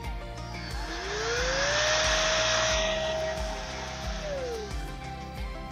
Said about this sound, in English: If you're going to clean your fan using one of these little air blowers